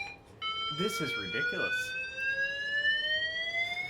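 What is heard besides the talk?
hotel fire alarm sounding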